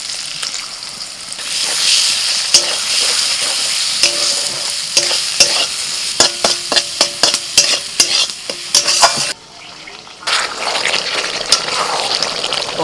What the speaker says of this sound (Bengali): মশলাটা কষিয়ে নেওয়ার পর একটা ডিমকে ফাটিয়ে দিয়ে দিচ্ছি